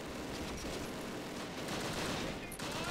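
Heavy machine gun fire from Wolverine tank destroyers in the Close Combat wargame comes as a dense, continuous rattling burst, loud and sustained, with a brief sharper crack near the end.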